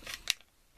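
A pair of scissors is handled up close, giving a few quick, crisp metallic snips and clicks with a sharp peak in the middle, then brief quiet and a small final click.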